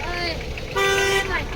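Vehicle horns toot in a few overlapping blasts, one longer and louder in the middle, as vehicles arrive at a bullock-cart racing ground in Kole while people talk nearby.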